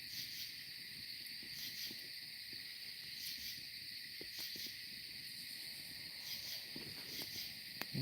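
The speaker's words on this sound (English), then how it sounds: "some kind of chirping going on over here just now that I haven't heard yet" Insects chirping in the woods at night: faint, steady high-pitched trilling with repeated pulses over a quiet background, and a few soft, distant knocks now and then.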